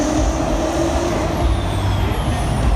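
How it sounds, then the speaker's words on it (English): Brodozer monster truck at a Monster Jam event in Glendale, its diesel engine rumbling loud and close with a deep steady growl and a rising surge toward the end. "He's getting ready to start getting the diesel power roaring."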